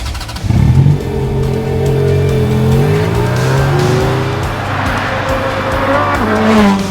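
A sports car drives past at speed, its engine note climbing and falling through gear changes with a brief tire squeal near the start, loud and close throughout with no talk.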